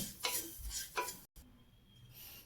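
Sesame seeds dry-roasting over medium heat toward golden brown, stirred in a pan with a few scraping strokes and soft rustling, a brief gap midway, then a quieter steady hiss.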